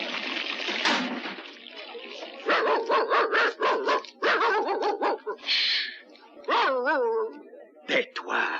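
A dog barks repeatedly at close range in short, sharp bursts with yips and a whine, alternating with people talking.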